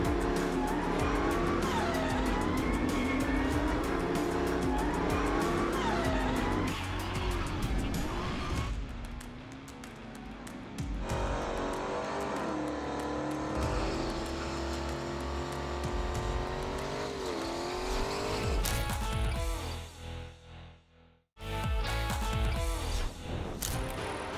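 A Dodge Hellcat puts on a loud show close by, its engine roaring and revving hard with squealing tires and skidding, then a short drop-off and cutout near the end before the roar resumes.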